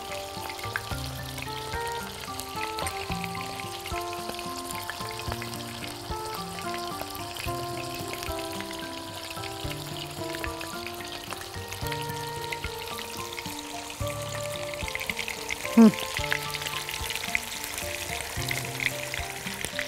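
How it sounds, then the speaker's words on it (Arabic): Chicken pieces frying in a pan for a caramelized onion chicken dish, a steady close sizzle and crackle running throughout with no talking. "دلوقتي انا عايزه احمر الفراخ بتاعتنا كويس من الجنبين"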